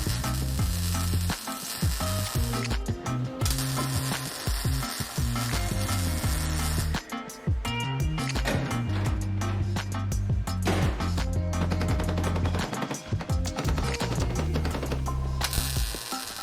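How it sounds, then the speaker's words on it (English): MIG welding on a car's B-pillar and sill gives a loud, continuous crackling sizzle, broken by a few short pauses between runs, with a low mechanical hum beneath. "This is not tack in place, this is a proper weld."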